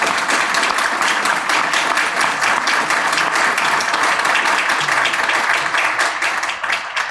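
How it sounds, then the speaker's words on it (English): Sustained, dense applause from an audience welcoming panelists at a discussion event, loud and steady for several seconds before easing slightly at the end. "So please join me in a round of applause for these incredible panelists."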